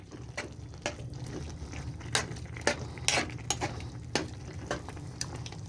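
A spoon stirs rice in a pot on the stove, scraping and knocking against the metal in irregular strokes over a low simmering bubble, close and clear with no talking.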